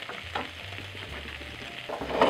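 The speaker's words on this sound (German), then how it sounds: "Die Kartoffeln wieder wenden und die Zwiebelstreifen auf den Kartoffeln verteilen." Potatoes and onion strips frying in a pan, a steady moderate sizzle with soft scraping and shuffling as the pieces are turned, nearby and continuous.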